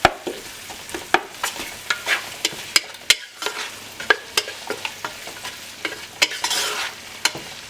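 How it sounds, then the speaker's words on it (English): Ceylon cinnamon sticks sautéed in a pan for a pork curry, with sharp repeated spoon clacks and scrapes against the pan over a light, close sizzle. "And obviously the Ceylon cinnamon sticks. So we're gonna saute them for a little bit."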